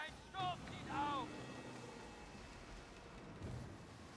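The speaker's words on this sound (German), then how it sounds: "Ein Sturm zieht auf." A storm at sea in the pirate game Skull and Bones, with steady rain and a low rumbling wash of wind and water, while someone speaks German over it.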